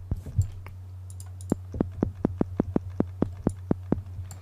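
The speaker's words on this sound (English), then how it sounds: "It kind of creates a sort of zap sound, but this zap gonna be used as a transient." Synthesized snare transient made in Serum, a short pitch-swept zap click repeated over a dozen times in an even rhythm, sharp and dry over a steady low hum.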